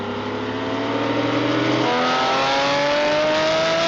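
Porsche 911 GT3 RS cars of the 996, 997, 991 and 992 generations pull hard in a third-gear roll race, with a loud, sustained engine roar whose pitch climbs steadily as they accelerate side by side.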